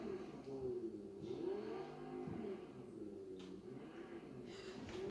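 A car drives in the Fortnite video game, its engine whining and shifting in pitch as it accelerates and eases off. Game sounds mix in, and the whole passage plays faintly and steadily.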